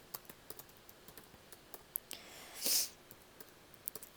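Fingers typing on a computer keyboard in a quiet room, a sparse run of light clicks and taps with one short louder burst near the end.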